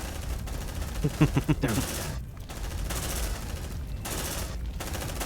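Rapid bursts of gunfire from the sci-fi squad game Aliens: Dark Descent, loud and close, with a quick volley early on followed by dense ongoing combat noise and voices talking over it.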